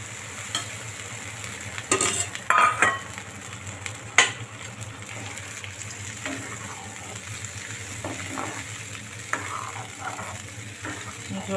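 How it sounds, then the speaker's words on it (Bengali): Water poured into a hot frying pan with whole tomatoes for a rohu fish curry, giving a few short sizzling bursts and scraping over a steady low bubbling hiss. "এখন দিয়ে দেবো পরিমাণ মতো জল।"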